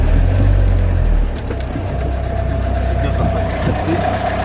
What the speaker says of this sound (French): Petite manœuvre pour laisser passer la voiture.